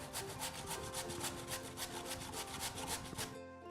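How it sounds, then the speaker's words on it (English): Carrots rubbed against a hand grater for carrot halwa, a steady rhythmic rasping with repeated scraping strokes, close and continuous, with no talking. "Now see, look, it's grating like that."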